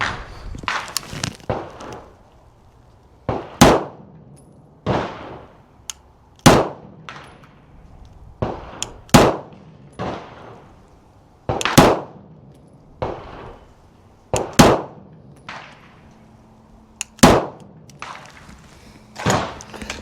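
An M17 pistol fires at a shooting range: a series of sharp, loud cracks spaced irregularly a second or two apart, each with a short ringing tail, with no talk.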